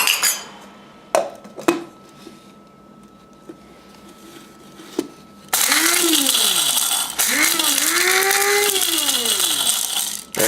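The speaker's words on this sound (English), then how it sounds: "So just put all the whole spices in the grinder." A spice grinder first rattles as whole spices and peppercorns drop in, then pulses with loud, rising whirring bursts of blades chopping the spices, close to the listener.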